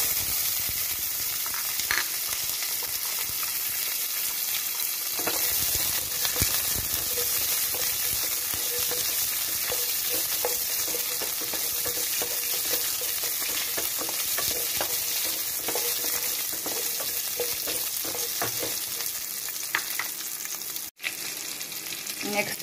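Onion fries in hot oil with mustard seeds, dried red chillies and curry leaves, a dense continuous sizzle and crackle with stirring strokes throughout, close and steady, no talk.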